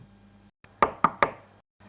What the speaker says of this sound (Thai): เสียงเคาะประตูจากหน้าห้องดังขึ้นอยู่หลายครั้ง